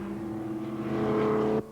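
A Porsche race car at the 1991 Porsche Cup race at Eastern Creek, a 944 front-engine or 911, roars past with a loud, steady engine note rising slightly, then cuts off abruptly as it goes by.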